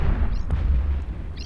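Battleship exploding in EVE Echoes: a deep rumbling blast with a sustained low roar, and faint higher sweeping tones above it.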